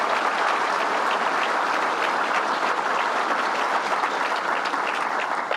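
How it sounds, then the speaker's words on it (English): Steady, full applause from a luncheon audience in a hall, dense and even clapping that carries on unbroken for several seconds. "Let's give them all a round of applause for what they did."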